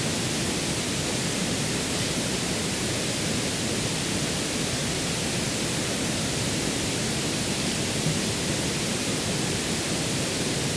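Steady, dense pink noise hisses evenly at a constant level throughout, with no breaks and no other sounds, played as a reference for mixing music.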